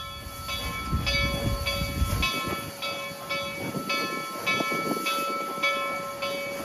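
A Reading and Northern train rolling along the line, a steady close rumble with a sustained tonal hum and regular rhythmic clicks of wheels over rail joints.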